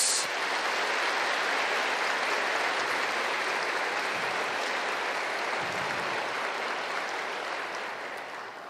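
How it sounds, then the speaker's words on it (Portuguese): Church congregation applauding, a sustained even rush of many hands clapping at moderate distance that slowly fades toward the end. "Pode aplaudir a palavra de Deus?"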